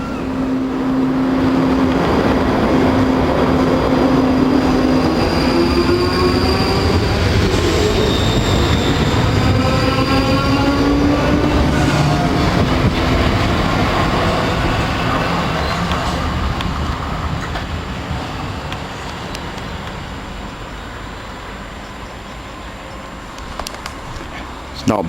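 The Royal Scotsman train, hauled top and tailed by class 47 diesel locomotives, rumbles past loudly and close at Dumbarton, a sustained roar and rattle of wheels that slowly fades as it moves away.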